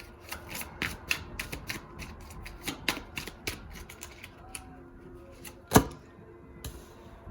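Tarot cards shuffled by hand close up, a soft, quiet run of rapid riffling flicks and rubs with one sharper snap near the end.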